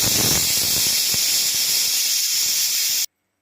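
A pressure cooker cooking amaranth greens and dal releases its whistle, a loud continuous steamy hiss that holds steadily for about three seconds and then cuts off abruptly into silence.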